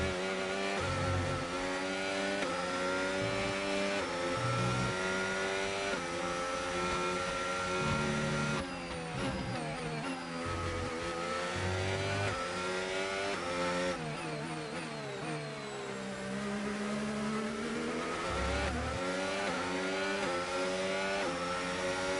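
F1 race cars in the F1 25 video game, engines screaming and rising through gears with repeated upshifts, loud and continuous with no talk.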